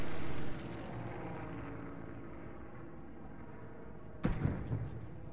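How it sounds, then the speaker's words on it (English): A World War II plane drones steadily overhead in Arma 3 over Mortain, a continuous mid-loud engine hum, ending in a short burst of louder crackling noise. "That's a plane."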